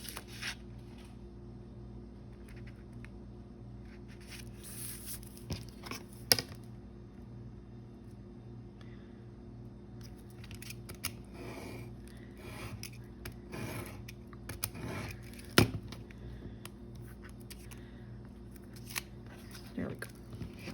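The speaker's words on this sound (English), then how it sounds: "then I can just cut that nice and even." Scissors cutting through paper from a vintage Little Golden Book, a series of quiet close snips and rustles spread across the stretch with a few sharper blade closes.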